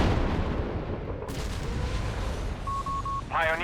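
Rocket artillery firing in the World War II strategy game Company of Heroes 3, sustained rumbling barrage with booming impacts, mixed with game voices and a brief beeping tone.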